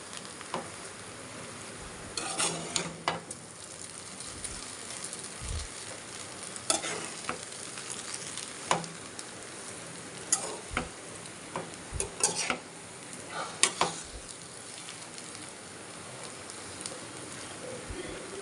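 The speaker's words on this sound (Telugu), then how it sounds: "ఒకసారి ఇదంతా గుడ్డు అది మ్యాగీ కలిసేటట్టు కలిపేసుకొని" Maggi noodles and egg stirred in a frying pan, a low sizzle broken by repeated sharp scrapes and clinks of the spatula at irregular intervals, close and continuous, without speech.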